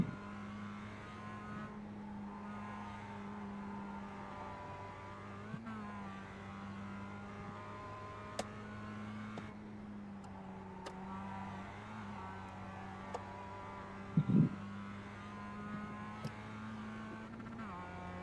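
A Mazda MX-5 Cup race car engine in the iRacing game at Lime Rock, humming steadily at sustained revs through a corner with slight pitch shifts and a brief tire scrub, faint and alone.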